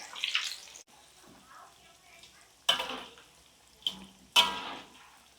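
Cassava sticks frying in very hot oil, a soft bubbling sizzle punctuated by several sharp bursts of spattering and stirring, with quiet stretches between them.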